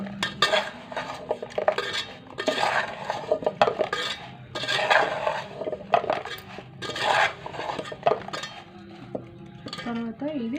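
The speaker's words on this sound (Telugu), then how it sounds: "నెక్స్ట్ ఇప్పుడు దీన్ని కలుపుకోవాలి. మంచిగా ఆ ముక్కలకు పట్టేలా మంచిగా కలుపుకోవాలి." Spice powder being mixed into cut vegetable pieces in a bowl, with repeated scraping, stirring and clinking of a utensil against the dish, close and busy with short pauses, ending in a few faint tonal sounds.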